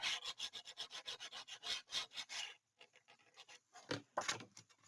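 Paper on a Graphic 45 Christmas tag album is burnished flat along a glued fold, producing close, rapid rubbing strokes in a quick back-and-forth rhythm, a brief pause, then a few softer scrapes, quiet and alone.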